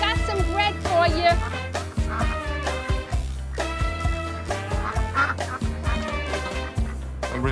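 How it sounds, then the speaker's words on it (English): Ducks being fed bread outdoors, a loud, close flock calling almost nonstop in rapid, overlapping honking bursts. "Okay, ducks, here we got some bread for you."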